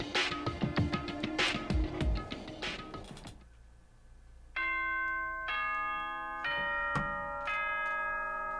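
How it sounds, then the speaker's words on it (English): A Danganronpa school announcement chime rings out loud and clear as a series of bright, sustained bell tones in a descending-then-rising pattern, following a stretch of busy, clattering game sound. "Ding dong, bing bong."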